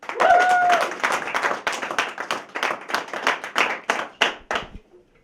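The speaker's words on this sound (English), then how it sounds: "Give a big round of applause for Mr. Nolawee Mangist." A comedy club audience claps and applauds for a comedian, a dense burst of clapping that thins into scattered claps and fades out by the end.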